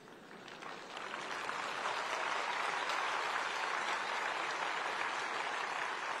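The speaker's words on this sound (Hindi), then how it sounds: "सुनने वाले को ताली बजाने में देर लगेगी।" An audience bursts into applause at a speech event on language and education policy. The clapping starts softly, swells within a second and holds as a dense, steady ovation.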